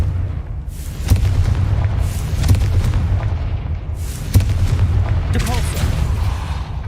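Explosive blasts from the Confringo spell in the video game Hogwarts Legacy boom repeatedly over a dense, loud low rumble, with sharp impacts and fiery crackles in quick succession.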